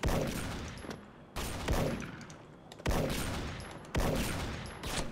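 Repeated gunfire in the Special Force online shooter, four sharp bursts spaced about a second apart, each decaying into a noisy tail, fairly quiet overall with no talking.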